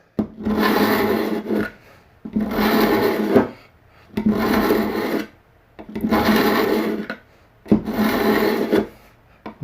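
A knife blade is drawn through the coarse slot of a handheld knife sharpener in five long, even rasping pulls, each separated by a short pause, loud and close with no talking.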